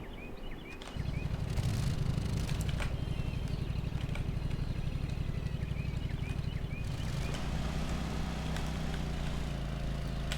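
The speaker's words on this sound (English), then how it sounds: "Start the engine." A lawn mower engine starts up in the Lawn Mowing Simulator video game and settles into a steady, close, rumbling idle that holds throughout, with a slight change in tone near the end.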